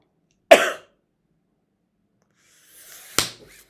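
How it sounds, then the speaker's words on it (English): Two sharp coughs, close to the mic, spaced a few seconds apart with silence between; the second preceded by a short breath. "I hate the cough."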